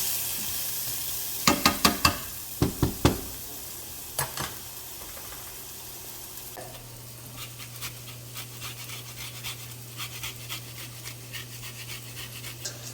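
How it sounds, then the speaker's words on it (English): Garlic and onions sizzle quietly in a pan, a soft steady hiss broken by a few sharp clatters and clicks early on, then faint crackles. "Let's get that garlic in there. The onions start cooking down."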